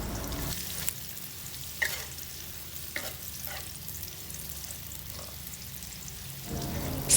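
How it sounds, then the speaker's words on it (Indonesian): Onion being sautéed in a pan, with a soft continuous sizzle and several sharp scraping stirs scattered through, close and fairly quiet, and no voices. "Yang pertama ini ada bawang bombay, ditumis sampai wangi dulu, baru masukkan bumbu yang lainnya."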